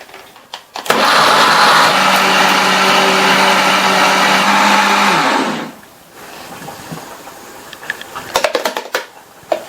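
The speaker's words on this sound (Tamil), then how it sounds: "அடுத்து இதுல ஐஸ் கியூப் கொஞ்சம் சேர்த்துட்டு இந்த ஜூஸை நல்லா ஸ்மூத்தா அரைச்சிக்கலாம்." A blender grinds pineapple juice with ice cubes in one loud, close burst of about five seconds, its motor whining steadily, then cuts off, followed by clattering and handling sounds.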